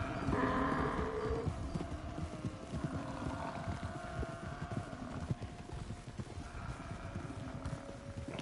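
A donkey ridden in Red Dead Redemption 2 clip-clops steadily along with rhythmic hoofbeats close by, while brief strained, braying vocal sounds rise over the footsteps, with a horse following.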